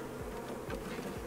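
Honey bees from a package installation into a Langstroth hive, a dense continuous buzz of many insects, fairly faint and steady throughout.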